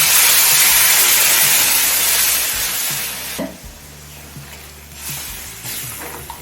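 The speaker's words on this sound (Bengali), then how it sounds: "এখন দিচ্ছি পরিমাণ মতো গরম জল" Hot water is poured into taro and spice mix frying in a pan. A loud, broad sizzling hiss carries on and slowly eases, with bursts of spattering near the end.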